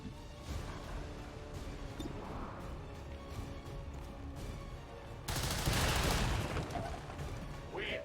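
Rapid bursts of gunfire and crashing impacts in the video game XCOM 2, with a loud, dense volley swelling midway over constant battle noise.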